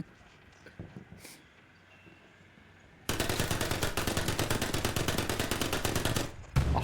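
Sustained automatic gunfire from a machine gun emptying a full magazine in a competitive video game match, a rapid steady burst of loud shots starting abruptly after a quieter stretch and running to the end.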